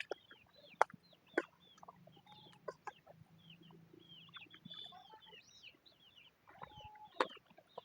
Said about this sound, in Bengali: এটা হচ্ছে আমাদের পারিবারিক খামার। এখানে মুরগি পালি আমরা,